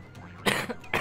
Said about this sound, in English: I've got a bad cough